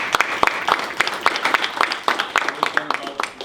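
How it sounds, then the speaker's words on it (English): A small crowd at a school board meeting claps in scattered, uneven bursts, the applause fairly close and lively. "I just want to applaud all of you for everything you've done"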